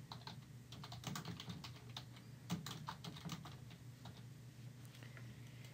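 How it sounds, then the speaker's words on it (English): Quick, light keystrokes on a computer keyboard, a close and quiet burst of typing with irregular taps over a low steady hum, with no talking. "Then you'll type in the name."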